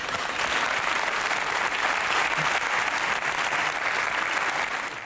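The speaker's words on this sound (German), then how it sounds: "Bei uns klatscht das Publikum ja Playback." A studio audience at a German TV talk show breaks into sustained, loud applause, an even wash of clapping that holds steady before tapering off at the end.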